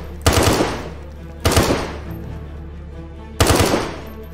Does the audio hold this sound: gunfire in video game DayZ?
yes